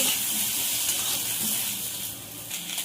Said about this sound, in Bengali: তেলটা গরম হয়ে গেছে, সবজিগুলো দিয়ে দেবো। সবজিগুলো তেলে একটু নাড়াচাড়া করে নেব।